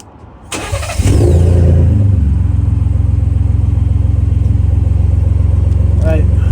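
A 2017 Ford F150 Platinum EcoBoost engine with exhaust fires up and settles into a loud, steady, deep rumbling idle close by, rising from a quieter background.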